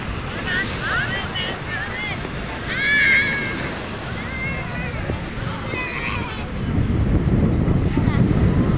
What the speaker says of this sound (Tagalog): Ang laki ng alon dito